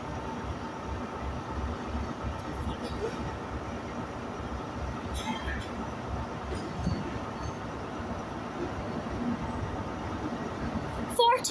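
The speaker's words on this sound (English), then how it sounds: "I can hear our train coming around the corner." A train approaching around a corner at Dundee station, a low continuous rumble of rolling stock that builds slightly, with faint wheel squeal near the end and a person speaking over it.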